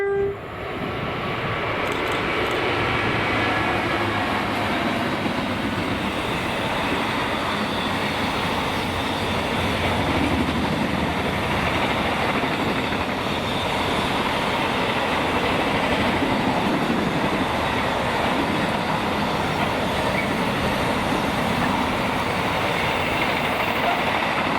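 A train rolls past at Cartland in Scotland, a loud, sustained rumble and rush of wheels on rail that lasts throughout, with a faint horn-like tone near the beginning.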